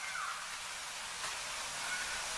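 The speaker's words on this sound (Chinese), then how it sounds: "水开之后给它焯水1分钟" Bok choy blanches in boiling water seasoned with salt and cooking oil, giving a steady close hiss and bubbling with faint sizzle.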